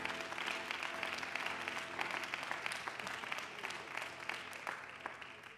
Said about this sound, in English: Why don't you give a great big hand clap to the Lord before you're seated.